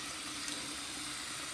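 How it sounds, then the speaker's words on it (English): Native date fruits are washed in water, with a soft continuous sloshing and running-water wash, close by and steady for a brief moment. "washing our fruit."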